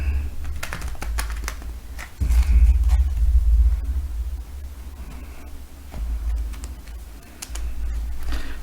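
A small printed tarot deck, about 10 by 5.5 centimetres, shuffled up close in repeated papery riffles and clicks over a low room rumble, with brief pauses between bursts.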